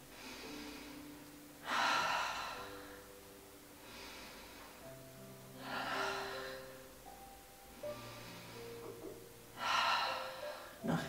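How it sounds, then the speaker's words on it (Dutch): Forceful yoga breathing exercise, strong rhythmic breaths in and out through the nose, about three bursts spaced a few seconds apart over a low background, close and fairly soft. "Adem krachtig in en uit. Gebruik daarvoor de H-ademhaling."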